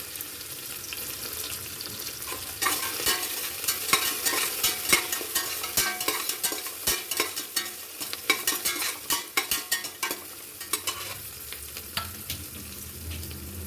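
Mint and coriander fry for avarekalu palav, giving a steady sizzle broken by a quick run of scraping stirring strokes, with no talking.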